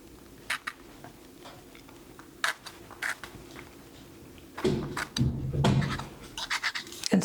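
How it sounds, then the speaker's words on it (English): Paint is scraped onto watercolor paper with a palette knife, giving close, scratchy ticks and short rasping strokes that grow denser and louder toward the end. "I'm going to just get some on my palette knife and scrape it in here."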